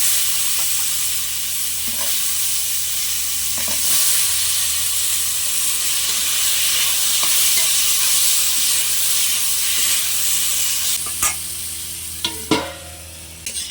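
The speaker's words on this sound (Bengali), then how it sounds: "এই একই তেলে আমি লবণ হলুদ মাখানো আলুগুলো ভেজে নেবো" Potatoes coated in salt and turmeric fry in the same oil just used for fish, giving a loud, steady sizzle and hiss with a few sharper spatters and utensil knocks near the end.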